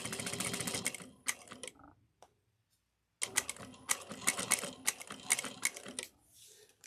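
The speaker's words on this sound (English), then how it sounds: "And I'm just basting this on." A sewing machine bastes fabric for a pouch in close, loud bursts of rapid mechanical stitching, stopping briefly for about a second before running again in several short spurts and trailing off quietly.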